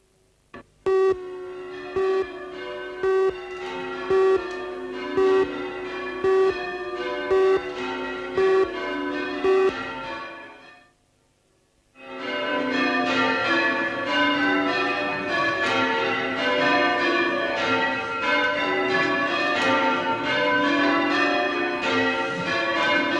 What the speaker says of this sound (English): the tolling of church bells is a glorious sound